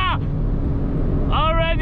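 A 2021 Porsche Cayenne Turbo Coupe engine roars steadily at very high speed on a German autobahn, with continuous wind and road noise. Two short rising engine tones cut through near the start and end.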